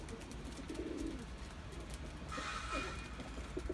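Pigeons coo softly in the distance at an open field, a faint low murmur with brief bird calls and light background noise.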